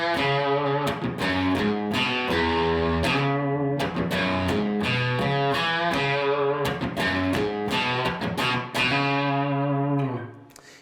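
An overdriven electric guitar plays a riff, a steady run of punchy picked blues notes repeating for about ten seconds before the last one rings out.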